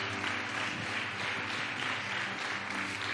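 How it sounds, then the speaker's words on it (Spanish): A church congregation applauds during a service: steady, dense clapping from many hands fills the room without a break, heard from a moderate distance. "A strong applause."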